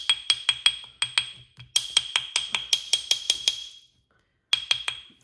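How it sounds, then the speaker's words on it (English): A small metal chasing hammer taps out rapid, bright, ringing strikes on a wire ring held on a mandrel, in quick bursts, pausing briefly before a final few blows, close up. "put this back on the mandrel and just take a chasing hammer."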